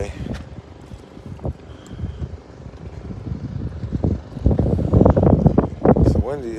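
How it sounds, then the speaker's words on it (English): Wind gusting on an island before a reef dive, buffeting the microphone in rough, uneven rumbles that grow stronger and louder toward the end. "It's windy."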